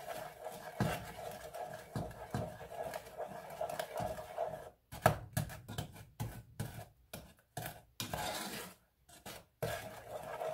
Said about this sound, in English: We're just chopping the butter down a little bit so it melts.